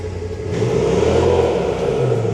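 A Polaris Turbo R side-by-side engine revs up briefly and steadily in high gear, loud and close, with no talk over it.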